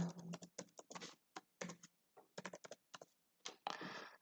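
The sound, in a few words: typing on a computer keyboard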